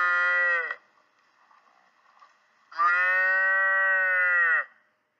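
A calf, a young cow, moos twice on a farm: a short call, then a longer, drawn-out, loud bellow after a pause with faint background noise between.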